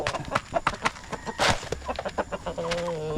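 Rhode Island Red hens cluck in a farm setting as they begin laying eggs, giving short, irregular calls close by, with a few louder squawks and a steadier hum under the final second.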